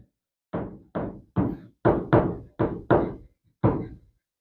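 A door is knocked on with eight sharp, close raps in an uneven rhythm, mostly in quick pairs with short pauses, loud and clear against silence.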